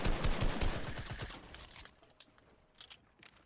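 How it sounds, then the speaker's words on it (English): Rapid automatic gunfire in Fortnite fills the first two seconds, dense and loud, then thins into scattered quieter shots and clicks. No one speaks. "Who are you shooting at?"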